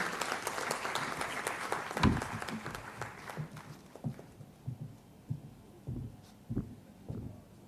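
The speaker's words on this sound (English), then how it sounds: "please give a big round of applause and welcome Shri Ramamurthy ji" Audience at a memorial lecture applauding to welcome the speaker, a dense burst of clapping that thins after a few seconds into a handful of scattered, separate claps.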